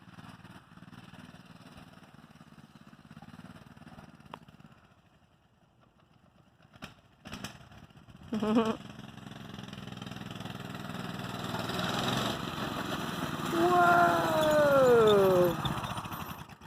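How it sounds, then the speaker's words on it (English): A mini bike's small engine drones steadily in an open farm pasture, growing louder as it approaches, with a brief exclamation from a person nearby. "there's a mini bike. And here it comes."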